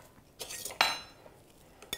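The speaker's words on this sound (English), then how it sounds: "I'm just going to mix it up." Cutlery scraping and clinking inside a pot while tomato sauce seasoned with oregano, basil, red pepper flakes and salt is stirred, a few short metallic strokes close by with no talk.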